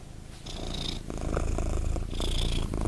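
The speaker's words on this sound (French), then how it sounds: "mon péché mignon pour les ronronnements de chat" Close, loud cat purring in rhythmic cycles, each breath in and out producing a rumbling vibration with a faint airy whistle.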